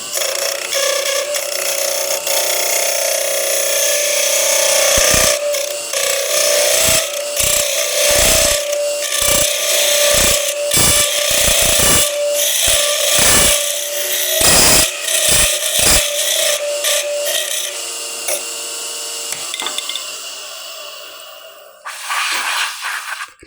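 A steady scraping hum of very hard wood being cut on a lathe with a quarter-inch curve tool, with repeated sharp bursts as the tool bites, fading toward the end.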